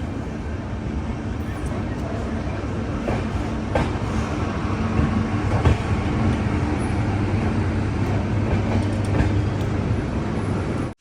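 A train stands at platform 2 of Hisar railway station on an AC Express service, giving a steady loud rumble with faint clanks and rattles. The noise runs evenly from start to finish, with no voices on top.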